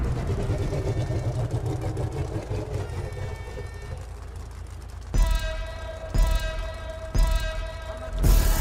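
A Declasse Vamos car engine in Grand Theft Auto 5 revs in short bursts, several rising pulses over a steady motor drone, with a harsh, buzzy in-game tone.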